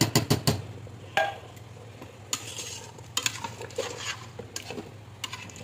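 Sweet congee with coconut milk being stirred in a pot, a spoon scraping and clinking against the sides in repeated strokes over a low steady simmer hiss, close and fairly loud with no talk.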